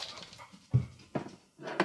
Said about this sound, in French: Il y a le chien qui gratte à la porte.